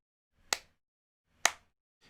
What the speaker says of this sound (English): So let's have a look at our clap here.